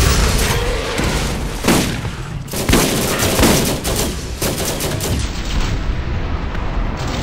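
Rapid automatic gunfire from a deployed turret in the video game Borderlands, loud and continuous with repeated booming bursts and no talk over it.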